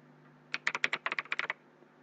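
Brief burst of close typing on a computer keyboard while writing a macro function in a Calc spreadsheet: about a dozen quick, light key clicks in an even run, over a faint steady hum.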